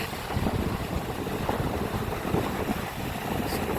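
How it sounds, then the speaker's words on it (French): Blustery wind by the sea buffets the microphone in a continuous rushing roar, with choppy low rumbles and no voices. "il y a du vent"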